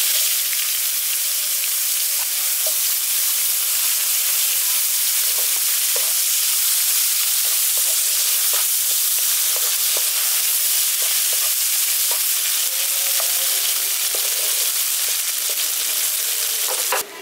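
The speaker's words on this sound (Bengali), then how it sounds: "পেঁয়াজগুলো এখানে আমি লালচে করে ভেজে নিয়েছি।" Chopped onions fry in hot oil for a potato and pea curry, a steady close sizzle with soft crackles and occasional stirring scrapes running throughout without any talk.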